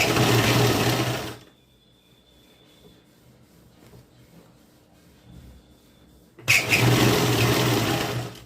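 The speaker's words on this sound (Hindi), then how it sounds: "ये देखिए इस तरीके से यहाँ हमें पक्की सिलाई लगानी है" Sewing machine running while stitching the sleeve onto a 46-chest kurti, a loud steady whir at first, stopping for a quiet stretch of about five seconds, then starting up again.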